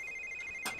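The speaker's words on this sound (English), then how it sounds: "somebody's getting a phone call" An electronic phone ring from The Sims 3 life-simulation game: a steady tonal ring holds throughout the short moment, with a brief louder burst near the end and no talking.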